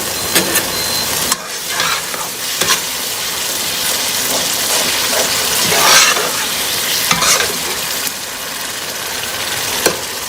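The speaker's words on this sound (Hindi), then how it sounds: "कीमा जो है वो हमारा पक गया है। ये देखें सिमर हो रहा है ये।" Minced beef bolognese sauce simmering and sizzling in a pan, a continuous, close, fairly loud crackle with occasional sharper pops and stirring scrapes throughout, no talking.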